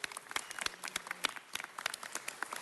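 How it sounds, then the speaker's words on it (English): Scattered audience clapping at a Living Legends of Jazz honoring ceremony, individual sharp claps popping unevenly from a modest crowd, fairly quiet and a little distant. "Can we give her a round of applause?"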